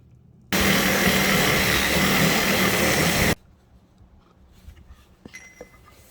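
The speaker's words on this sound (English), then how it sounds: "And then let's drill holes for these guys like that." Power drill boring holes runs loud and steady for about three seconds close by, then stops, leaving faint clatter and handling noise.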